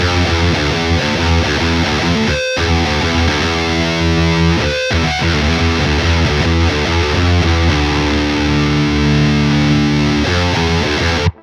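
Heavily distorted guitar plays chords and riffs through a Bogren BH4 amp plugin with the pedal on and everything turned up, loud and saturated throughout, with two brief pauses between phrases.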